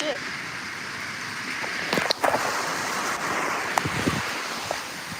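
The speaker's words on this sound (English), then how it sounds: "It got windy real quick" Steady wind rushes and buffets the microphone outdoors, with scattered clicks and faint rustling over the gusty background.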